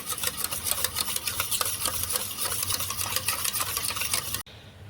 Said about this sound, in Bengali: ভালো করে সব দিয়ে গুলে নিচ্ছি।